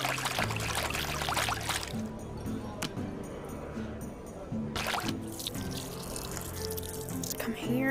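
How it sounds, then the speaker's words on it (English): Olive marinade is poured off in a home kitchen, giving a close, liquid splash and trickle with intermittent drips and a few sharp handling clicks, fairly quiet overall. "Pour off the marinade and put the olives in a small bowl."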